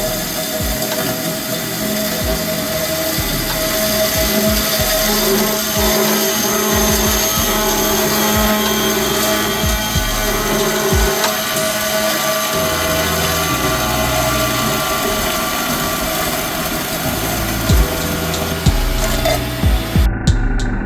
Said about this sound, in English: I got the cold saw pulled out here. This will make for some nice,